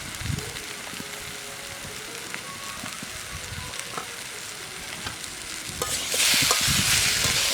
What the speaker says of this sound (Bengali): সবজি ভাজা হয়ে গেছে, এখানে টমেটো আর লঙ্কা দিয়ে দেবো